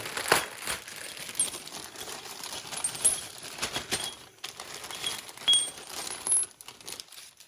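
Small metal pins and hardware for a John Deere X700 series quick hitch jingle and clink in a plastic parts bag as a hand rummages through it, with crinkling and irregular close clatters and no talk.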